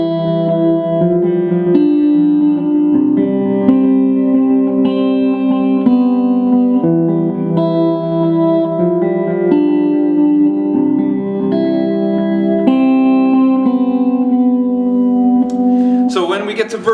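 Lead electric guitar plays a worship-song turnaround line through effects, with sustained, reverb-washed and echoing notes flowing continuously at a strong level, ending in a brief noisy burst.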